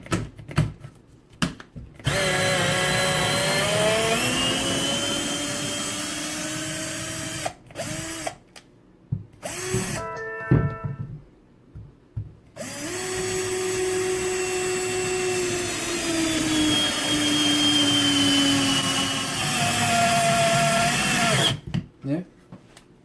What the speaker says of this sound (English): So there you go. 12-volt screwdrivers.